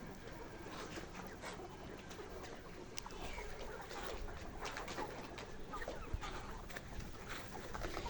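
Kazi Hylan layer hens, a batch of about 2,000 pullets on a poultry farm, cluck and chatter steadily as a dense, continuous flock din with scattered sharper calls throughout.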